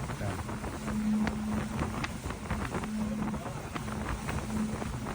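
Steady engine drone and wind rumble from a boat crossing from Bali to Gili Trawangan on a hot midday run, continuous and close, with a faint low hum throughout.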